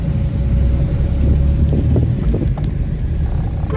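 A car driven by a learner on a driving lesson with Alfala Driving Centre, its engine and road noise a steady, loud, close rumble mixed with wind buffeting throughout, no talking.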